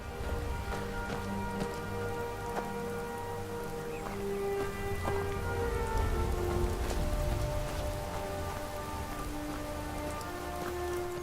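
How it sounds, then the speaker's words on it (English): Rain in the video game Skyrim, a steady soft hiss of falling drops over a faint low ambient hum, continuous and unbroken throughout. "Oh, the rain is back."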